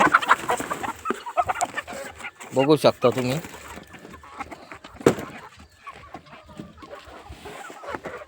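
Country chickens cluck close by in short bursts while a person talks over them.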